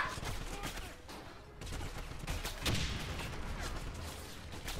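Dense bursts of video-game gunfire in a chaotic shooter firefight, rapid overlapping shots rattling fairly close with a few heavier cracks, nearly continuous across the stretch with no clear talk.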